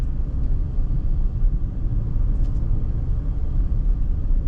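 A 2018 Bentley Bentayga W12 SUV on the road, its engine a steady low rumble with road noise throughout as it accelerates hard and then brakes, heard from inside the cabin with no talking.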